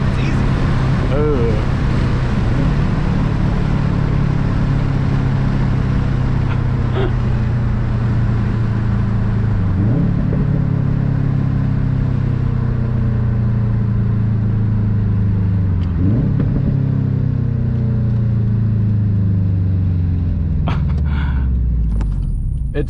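A stage 1 2018 Subaru STI drives along with a steady low engine drone, its pitch rising and falling through gear changes, while people talk inside the cabin over the road rumble.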